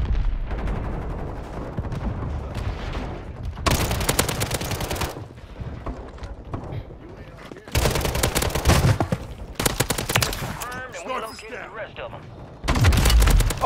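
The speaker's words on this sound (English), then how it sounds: "He's shooting at me right now." Bursts of automatic gunfire in a Call of Duty match, several loud volleys separated by quieter stretches of game noise, with a player talking throughout.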